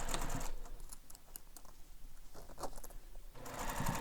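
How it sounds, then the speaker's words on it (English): A sewing machine stitches fabric pieces of a bowler bag together, a rapid, even mechanical chatter in bursts at the start and end with a lighter, quieter run of stitching in between. "we're going to sew this together using the seam allowance given in the pattern"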